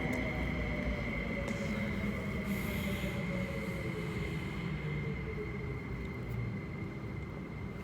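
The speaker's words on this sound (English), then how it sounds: "I thought it was like an empty train coming in here" An MTR train pulls into Sung Wong Toi Station with a steady, loud rumble of wheels and motors and a high electric whine that slowly falls in pitch as it slows, heard nearby on the platform.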